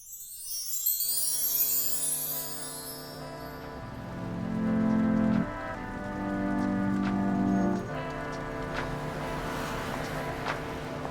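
A rain sound effect in an audio story: a steady wash of falling rain with droplet patter runs beneath a bed of sustained music tones, joined by a brief chime at the start, with no talking.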